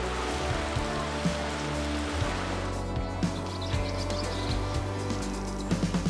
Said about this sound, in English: So the storm's definitely moving in.